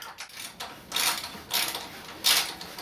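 Gland nut being tightened on a vintage air-cooled VW bus engine crankshaft with the motor locked down, a series of ratcheting metallic clicks in roughly three bursts, close up.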